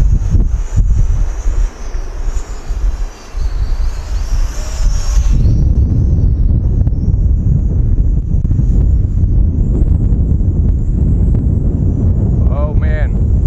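Strong outdoor wind buffets the microphone with a loud, continuous low roar, while a small entry-level FPV quadcopter's motors whine high and steady throughout.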